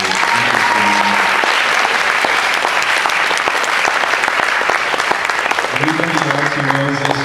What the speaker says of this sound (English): How about a hand of applause for